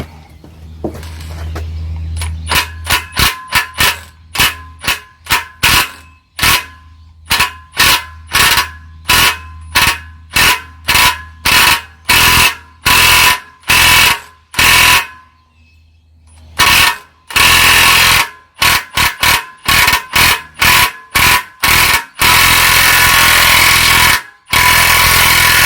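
A pneumatic impact gun pulls the head studs on a Dodge T214 WC-51 engine with a universal stud remover, hammering in a long run of loud, sharp rattling bursts separated by brief pauses, ending in a sustained burst.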